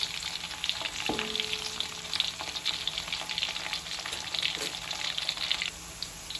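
Petai sizzles and crackles steadily in a hot frying pan, with occasional scrapes and knocks as it is stirred now and then, close up and without speech.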